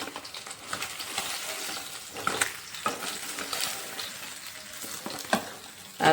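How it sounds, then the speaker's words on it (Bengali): Fish frying in hot oil in a home kitchen, a steady broad sizzle with occasional sharper crackles and spatters, close and fairly loud with no talking. "মাছ ভাজা হয়ে গেছে, আমি তুলে নিচ্ছি এখন তেল থেকে"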